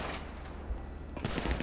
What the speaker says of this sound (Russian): Держись, пересиди обстрел.